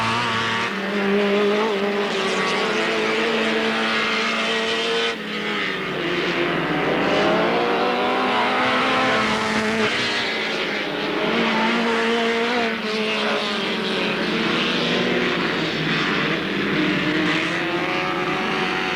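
Race cars lapping Alwalton Raceway in 1983, their engines revving and whining continuously as they pass, with rising and falling pitch and some tyre squeal, steady and loud throughout without a break.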